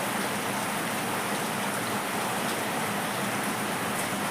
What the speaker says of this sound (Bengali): বাইরে সাংঘাতিক বৃষ্টি হচ্ছে